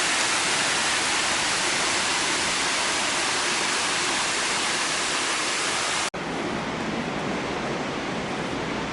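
Broadband rushing water at the mouth of the Blokrons River along a coastal hiking trail, a steady loud wash with a brief break near the end before the flow resumes slightly softer.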